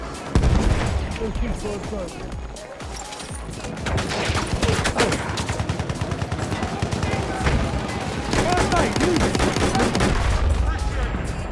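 Rapid grenade explosions and gunfire in the Battlefield 1 video game, dense and continuous booms and bursts layered over each other, with a player talking over the battle.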